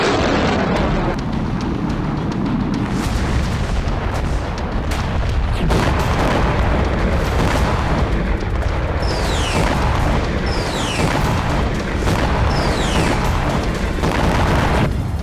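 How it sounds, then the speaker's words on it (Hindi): An explosion on Iranian soil, heard as heavy, sustained booming rumble with crackling bursts and a few rising whistling streaks, loud and dense from start to finish. "ईरान की धरती पर हुआ ये वो धमाका है"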